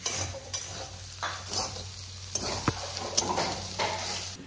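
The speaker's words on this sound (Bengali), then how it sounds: "এই যে বকলি আলু ভাজা হচ্ছে" Close-up sizzle of broccoli and potato frying, with repeated scraping and stirring of a spatula in the pan, a few sharp clinks, no speech.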